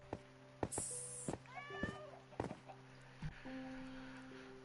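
A cat meowing in the Minecraft video game, a single mid-length meow among scattered clicks and game tones, fairly faint.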